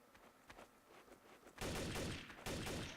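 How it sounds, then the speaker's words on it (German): Gunfire in the video game Trouble in Terrorist Town: quiet scattered shots, then a sudden loud burst of rapid, dense firing that carries on to the end. "Sie schießen."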